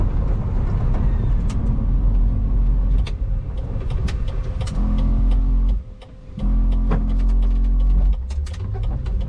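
An electric Vauxhall VX220 EV conversion on a lap of country roads, heard from inside as a loud, steady drivetrain whine and road roar, pitch stepping with speed changes and a brief drop in level partway through.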